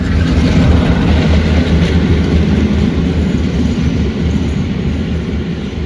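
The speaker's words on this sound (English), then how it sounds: "D1015 Western Champion was dragging the Class 45 45108 and Warship D821 Greyhound back to the Severn Valley Railway" Diesel locomotive D1015 Western Champion hauls Class 45 45108 and Warship D821 Greyhound on the Severn Valley Railway, a loud heavy engine rumble with rolling wheel noise passing close, fading slightly toward the end.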